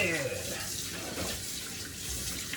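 Hot water running from a tap into a sink while washing dishes, a steady splashing rush with a brief voice at the start.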